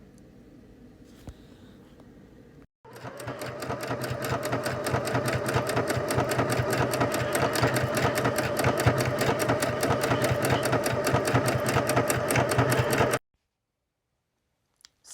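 A sewing machine stitches a cuff for a Candy Land bunny in one long continuous run of rapid, even needle clatter, close and steady, then stops abruptly into silence.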